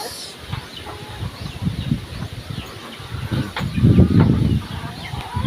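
A hen, the female chicken in a backyard flock kept with a rooster, gives low soft clucks in scattered bursts, growing louder near the end, with faint insect buzz and bird calls around.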